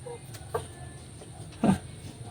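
Two short clucks from a small labuyo chicken sound close by, spaced apart, over a quiet outdoor background with a faint high whine.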